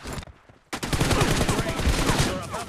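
Gunfire in the mobile shooter game BGMI (Battlegrounds Mobile India): a short quiet gap, then a dense, continuous burst of rapid shots fills the rest of the moment at close, loud level.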